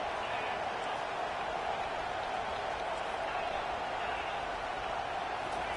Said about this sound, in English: Fans are bringing the noise on 1st and goal.